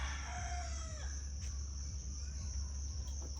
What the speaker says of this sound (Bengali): মুরগি একেবারে চারির উপরে যায়া তারপর খাইতেছে